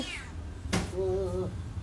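A cat meows once while eating fish, a clear mid-pitched call near the middle, with a brief chewing click before it and quiet room noise around.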